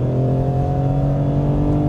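A BMW E46 M3 engine revs hard near 6,000 RPM while accelerating out of a corner, a loud steady tonal drone heard from inside the car with no talking.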